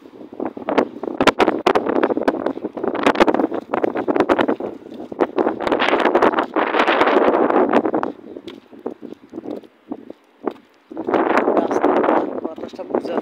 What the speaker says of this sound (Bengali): বাতাসটা বোঝা যায়